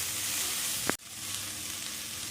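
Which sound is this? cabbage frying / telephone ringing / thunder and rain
cabbage frying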